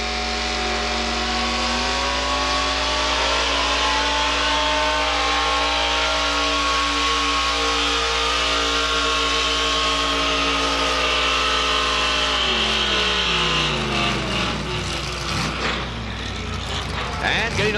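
Temper Tantrum, a pulling truck at a truck and tractor pull, roars at full throttle with a steady, loud, sustained engine drone that shifts pitch near the end, under an announcer talking.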